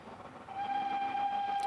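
A train sound-effect sample used in a Logic Pro X music production blends a rumbling rail-car wash with a sustained, steady whistle tone, alone and fairly loud.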